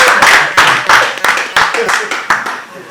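A few people clap in an irregular patter at a French-language presentation on artificial intelligence, sharp hand claps close by over steady talk.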